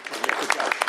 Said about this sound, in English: Please give a round of applause for the representative for his hard work.